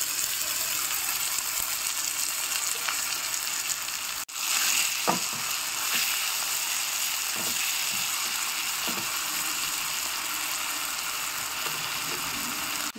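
Tomatoes sauté in a pan for rajma, giving a steady broadband sizzle that runs for the whole stretch, with a few clinks and scrapes of stirring standing out above it and no one talking.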